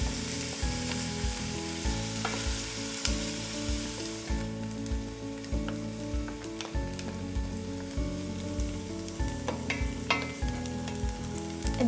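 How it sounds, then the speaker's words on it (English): Onions sautéing in a pan hiss and sizzle steadily, with the scrape of stirring coming through at close range and no one speaking. "You saute it until it is soft and translucent in color."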